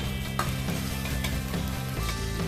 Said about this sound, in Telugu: ఇప్పుడు ఈ టమాటోస్ మంచిగా ఫ్రై అయ్యే వరకు ఫ్రై చేసుకోవాలి.